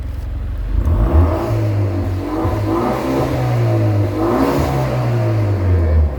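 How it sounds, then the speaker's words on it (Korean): The exhaust of a 2013 Hyundai Veloster Turbo with manual transmission revs loudly up close, the engine note rising and falling in several surges over a steady idle rumble. "배기 소리 좀 들려드릴게요"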